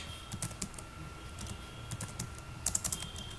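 Computer keyboard typing out an SQL insert statement, irregular bursts of soft key clicks close by over a quiet room hum, no voices.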